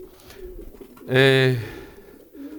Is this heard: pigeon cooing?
yes